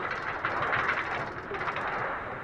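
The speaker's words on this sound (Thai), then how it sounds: "นี่ทางรถไฟสั้นที่สุดเลยนะคะ" A train runs along a short railway line, producing a continuous, moderately loud rolling rumble with a steady mechanical hiss and no talking.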